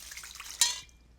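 Rinse water drips from a strainer of sprouting mung beans: a soft trickle, then one sharp, close splash midway that fades quickly.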